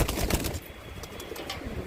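Pigeons cooing softly at close range in a loft, a steady low murmur of overlapping coos with some rustling.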